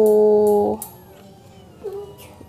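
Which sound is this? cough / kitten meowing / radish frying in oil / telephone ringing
kitten meowing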